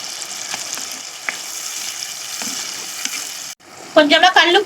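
Tomato goes into a hot pan for vathal kuzhambu, crackling with a steady, fairly loud sizzle and a few sharp pops, before a person starts talking over it.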